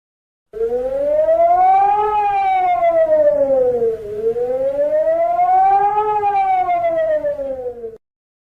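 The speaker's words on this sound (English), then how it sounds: "You have just heard the alarm signal." A civil defense alarm siren signal in an emergency alert scenario, one loud steady wail that rises and falls in two long cycles, sounding alone for about seven seconds before cutting off.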